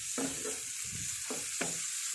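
Fried chicken pieces stirred into a roasted-coconut masala for chicken curry, a steady sizzle with three distinct scraping strokes of the spoon against the pan, close and alone.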